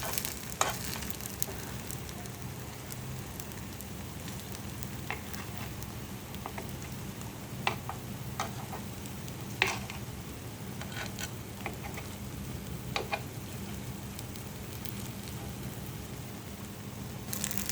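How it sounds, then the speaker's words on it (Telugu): Gunta punugulu fry in a pan with a steady sizzle, broken by sharp scraping clicks and knocks as the batter balls are turned, no voices. "చక్కగా ఉడికించుద్దాం ఇవన్నీ చక్కగా టర్న్ చేసుకుందాం తిప్పి వేసుకుందాం"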